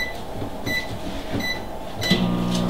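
A microwave oven runs while cooking egg sandwich filling, giving a steady hum with faint tonal whine and a few light clicks, and the pitch shifts near the end.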